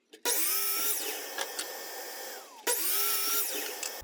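A power saw cuts a fence picket board in two bursts: a loud whining cut of about two and a half seconds, a brief pause, then a second shorter cut.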